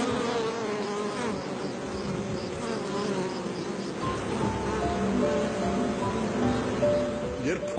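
A dense swarm of bees buzzing in Syunik, Armenia, forms a steady, loud, continuous hum from close by, with no pauses and no talk.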